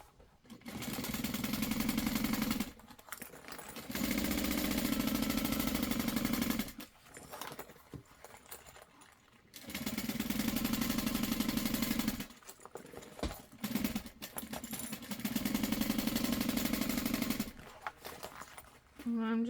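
A sewing machine topstitches a mini backpack being enlarged to full size, running in loud, steady whirring bursts of several seconds each, separated by pauses with soft handling sounds and some talk.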